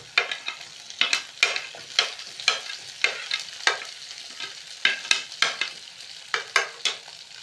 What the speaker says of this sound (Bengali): এই সময় এতে আমি পেঁয়াজ দিয়ে দেবো।